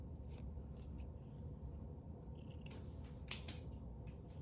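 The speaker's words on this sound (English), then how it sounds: "Let's cut it." Scissors snip along the black-printed edge of a postcard in short, quiet cuts, with one sharper clip near the end against a low background hum.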